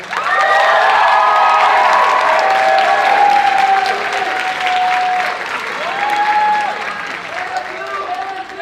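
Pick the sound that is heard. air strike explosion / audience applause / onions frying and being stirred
audience applause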